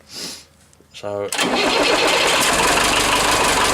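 A forklift engine cranks briefly, then catches and settles into a loud, steady idle close by, after a short bit of speech.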